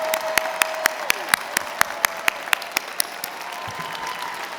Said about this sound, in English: let's give one more round of applause to all of our graduates